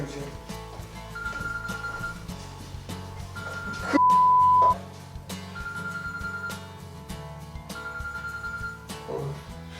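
A telephone rings repeatedly in a steady pattern of electronic ring bursts during a prank call, set over constant background music with a brief loud tone in the middle.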